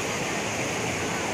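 The Nagfani river rushes in a dense, unbroken roar of flowing water, loud and close, with no other sounds standing out.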